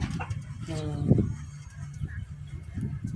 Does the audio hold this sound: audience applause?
no